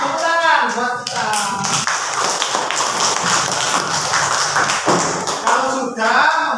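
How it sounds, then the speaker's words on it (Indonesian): A school class claps together, a dense burst of applause that runs for several seconds and fades, with a teacher's voice heard at the start and end. "Tepuk tangan buat kita."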